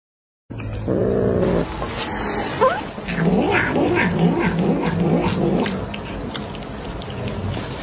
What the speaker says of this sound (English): I trained my cat to meow on command